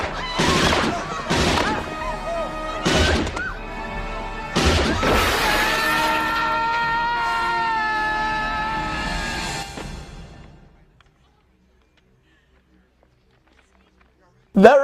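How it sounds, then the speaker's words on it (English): Film sound effect from the final scene of RoboCop as a man is shot out of a window: a series of loud, sharp crashing and shattering bursts over several seconds, then sustained ringing debris that fades to silence before a final abrupt hit. "This is the effect they use when the guy gets shot out of the window."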